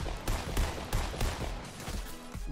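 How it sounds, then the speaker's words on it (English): Rapid bursts of gunfire from a Fortnite World Cup match, several sharp shots in quick succession over a steady game-audio bed, fairly loud and close. "I'm shooting them, shot him once"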